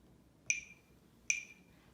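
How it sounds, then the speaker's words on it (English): A metronome used for trombone practice gives two crisp, evenly spaced ticks, quiet and alone against a faint background hum. "Here's our metronome."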